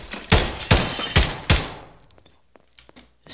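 Four heavy shots from a Call of Duty Modern Warfare gun in Garry's Mod fire at a steady, evenly spaced rhythm, loud and close, then trail off into faint clicks and quiet rattles.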